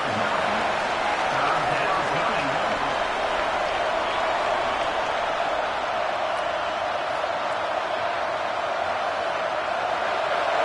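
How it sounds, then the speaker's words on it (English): A football crowd roars steadily for the defense on third down, a dense, sustained wall of cheering and noise with no clear breaks. "Decibels rising as the crowd gets behind this defense on third down."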